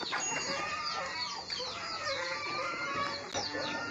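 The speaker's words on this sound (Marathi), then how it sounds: "मी सोडतो कोंबड्या" Village chickens clucking steadily and close together as the birds are let out of their coop, a busy overlapping chatter of fowl with an occasional rooster note and no talking.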